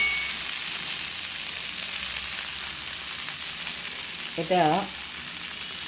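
Steady sizzling hiss of a vegetarian curry, made without onion or garlic, being stir-fried in a pan before the gravy goes in. The fry holds even and close throughout, and a voice speaks briefly near the end.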